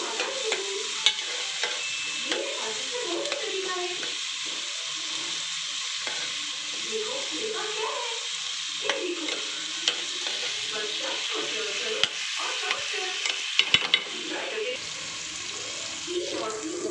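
Frying in oil in a home kitchen: a steady sizzle runs throughout, with intermittent stirring clinks and scrapes and occasional sharp utensil taps.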